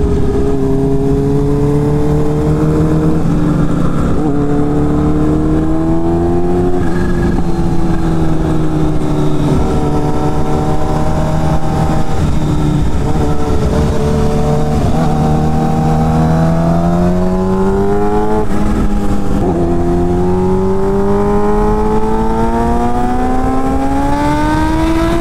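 Fast cars accelerating and revving in a loud, continuous run of engine roar, pitch climbing and falling through several gear changes as the engines pass close by.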